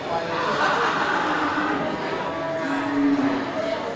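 Bali cross cattle, crossbred with Aceh cattle, at a livestock market give a low moo or two amid steady crowd noise while someone talks nearby.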